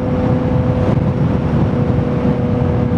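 Yamaha MT-09 motorcycle in mode 1 on an expressway, its exhaust giving a loud, steady engine drone close by with no talking.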